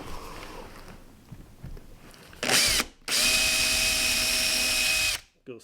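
A power drill bores a pilot hole for a screw, sized to the shank, for a homestead composting toilet build: a short burst of whirring, a brief pause, then a longer steady high-pitched run that stops abruptly, close and loud.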